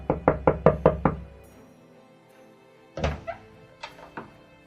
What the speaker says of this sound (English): there was an urgent knock on my door